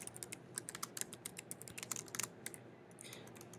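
Steady typing of a note on a computer keyboard, faint clicking keystrokes in an irregular rhythm over a quiet room background for several seconds.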